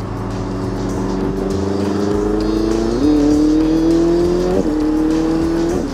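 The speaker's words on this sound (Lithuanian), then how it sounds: "Šiuo metu automagistralėje važiuoju leistinų maksimalių 130 km per valandą greičiu." Ferrari 488 Spider convertible cruising on a highway at 130 km/h, its engine droning steadily and loud with wind and road roar, the pitch stepping up briefly around two shifts.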